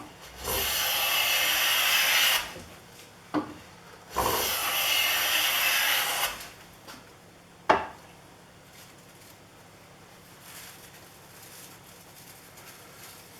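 A Miller's Falls Stiletto hand plane takes thin shavings off wood in two long, close rasping strokes, each about two seconds, with a few sharp knocks and clunks as the plane is set down and lifted, then quiet.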